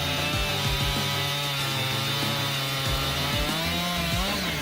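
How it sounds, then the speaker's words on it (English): A Husqvarna 592 XP chainsaw cuts through large timber, its loud, steady engine whine running without a break, the pitch wavering a little as the chain bites into the wood. "the Husqvarna 592 XP chainsaw is a formidable tool for handling"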